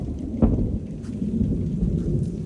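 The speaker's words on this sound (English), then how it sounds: "It's about to storm." Thunder rumbles low and steady as a storm moves in, with a sharper crack near the start over a constant wash of rain.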